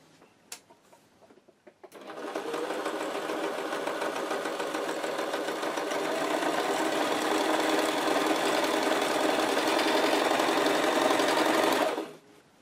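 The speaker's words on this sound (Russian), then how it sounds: "Пробуем шить на прямой строчке." A sewing machine runs a straight stitch in one continuous, even, fast whirring hum lasting about ten seconds, close and loud, with a few faint clicks before it starts and an abrupt stop at the end.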